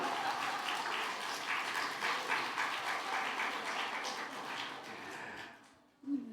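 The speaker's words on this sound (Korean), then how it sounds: "박수까지 치시는 거예요?" A congregation at an autumn revival service in a church claps steadily at a soft, distant level. The applause tapers off near the end before a brief louder sound.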